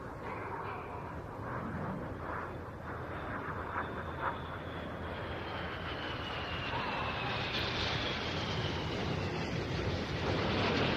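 An aerobatic display jet at a seaside air festival pulls up into a loop trailing white smoke, its engine roar a faint, distant rushing that swells gradually, with wind and surf-like noise throughout.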